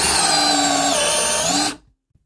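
A compact cordless power drill from a compact series drives construction screws, its motor whining loud, steady and high-pitched up close, shifting slightly in pitch as the screw seats, then stopping abruptly into silence.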